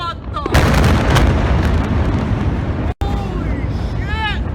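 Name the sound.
ammonium nitrate explosion sound effect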